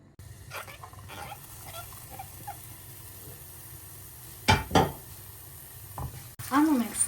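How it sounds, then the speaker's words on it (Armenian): Onions fry in a pan for a cabbage pie filling, a soft steady sizzle broken by a couple of sharp stirring scrapes and clatters, with a brief louder burst near the end. "Անում ենք սոխարած,"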